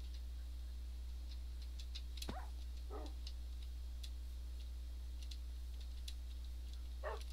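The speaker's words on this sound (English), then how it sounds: "I heard a dog whine" A dog whines in Minecraft on the Brewcraft modpack, two faint, brief whimpers close together against steady ambient game background with scattered clicking ticks.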